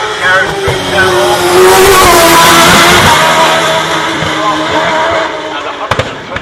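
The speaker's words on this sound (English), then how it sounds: "The blood red Ferrari coloured car with the carbon wings leaves the line here at Shelsley Walsh" A blood-red Ferrari-coloured hillclimb race car with carbon wings launches off the start line at Shelsley Walsh, its engine roaring loudly and steadily up through the revs, with a commentator talking over it.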